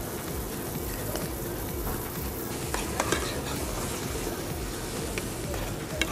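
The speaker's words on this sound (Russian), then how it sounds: "Масло нагрелось, выкладываем грибы." Dense, steady sizzling of mushrooms frying in hot oil fills the air, with occasional small pops and clicks from the pan.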